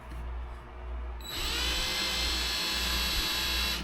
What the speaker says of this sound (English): She's going to be running the drill for me.